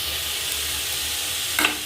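Watermelon rind frying in a pan gives a soft, steady sizzle as it is stirred, with a short louder scrape or hiss near the end, close and without talk.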